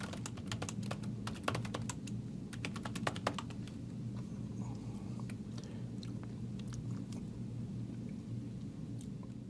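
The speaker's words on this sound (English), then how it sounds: "And so that's literally what I'm going to type in." Fast typing on a computer keyboard, close and steady with bursts of crisp key clicks over a low background hum, no talking.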